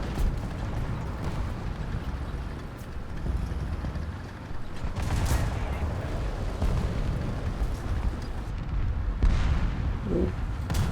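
Artillery strike explosions in the video game War Thunder make a continuous dense rumble of booms at steady loudness throughout.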